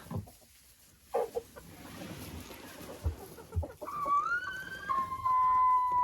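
Hen in a coop clucking while laying an egg: a few soft, scattered clucks and rustles at first, then louder drawn-out squawking calls building toward the end, fairly close.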